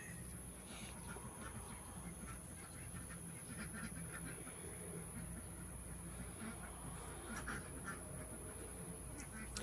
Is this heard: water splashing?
no